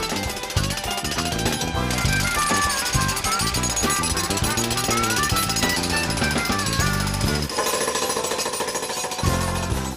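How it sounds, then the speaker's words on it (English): A loud, continuous jackhammer pounds steadily into a concrete basement floor, cutting a trench along the wall, its rapid hammering dense and unbroken, with a brief change in tone near the end. "Step one is to jackhammer a narrow trench around the perimeter of the basement"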